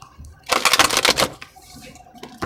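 A quick burst of rapid crisp riffling clicks, like cards being shuffled, lasting about a second, then quieter handling noise.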